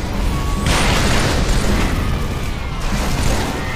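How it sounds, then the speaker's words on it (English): A grenade blast in Halo 3 erupts after a brief lead-in, a loud, broad boom that fills the clip and rumbles on for several seconds with a dense, sustained roar and no talking. "Look out! Grenade!"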